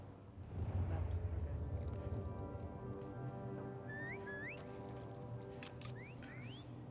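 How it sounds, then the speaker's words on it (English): Enemy whistle signals in The Last of Us Part II ring out as several short rising whistles in quick succession, some near and some farther off, over a steady low game ambience. "Why are y'all whistling?"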